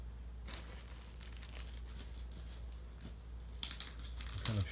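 Quiet crinkling and rustling of plastic bags in short handling bursts as electric football figures are put into them, close by, with faint soft knocks.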